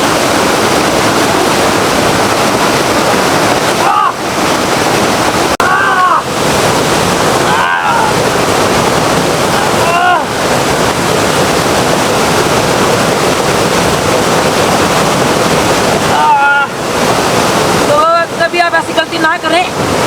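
River water flows in a wild outdoor survival setting as a loud, continuous rush, with gusts of wind buffeting the microphone at intervals.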